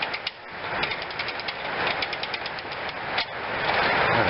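A wound-up 1912 Converse Pierce Arrow toy car runs, giving a continuous buzzing mechanical whir with fine ticking from the clockwork, close and fairly loud and building slightly, with no talk.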